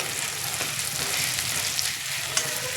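Jackfruit seed paste stirred and mixed into hot oil in a frying pan, giving a steady close sizzle with light stirring scrapes throughout.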